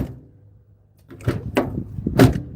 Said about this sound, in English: the noise of the door that you're closing reveals the quality of the work